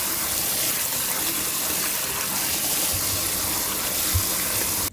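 Cold tap water gushes steadily into a basin for soaking trimmed spinach, a loud continuous splashing stream that runs alone for about five seconds before cutting off abruptly.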